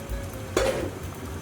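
Coconut cream from a 400 gram can is stirred into a frying pan, giving a soft sizzle with a brief clink of utensil against the pan midway, close and moderately loud, with no talking.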